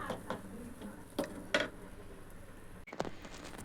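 Salt being spread and stirred in a hot pan while roasting for Solapuri salted peanuts, heard as a faint grainy hiss with several distinct scrapes and metallic clinks of a spoon against the pan.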